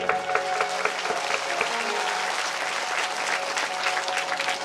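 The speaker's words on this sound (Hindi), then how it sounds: "तो बस यही ताली बजा दी गई।" An audience at a Bhagavat Katha religious discourse claps together in steady, dense applause that carries on without a break and without speech over it.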